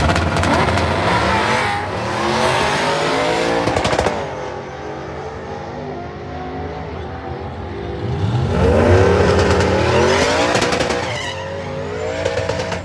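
A Procharged Silverado drag truck roars down the strip at a drag-racing event, its loud engine rising in pitch through repeated gear pulls and running continuously and close throughout, with no talk over it.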